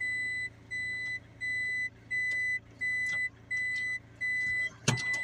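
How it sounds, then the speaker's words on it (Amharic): A car's reversing beeper sounds as reverse gear is engaged on a hill, giving seven steady evenly spaced beeps over a low idling engine hum, ending with a brief sharp click. "የኋላ ማርሽ ድምፅ ነው እየተሰማ ያላችሁ።"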